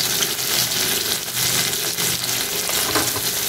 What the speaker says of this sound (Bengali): প্রথমে বরবটিগুলো আমি হালকা করে ভেজে সেদ্ধ হওয়া অবধি ভেজে নেব।